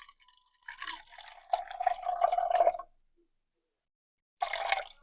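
Filtered water is poured from a jug into a container while sourdough bread is being prepared, giving two close, trickling bursts of liquid separated by a short pause.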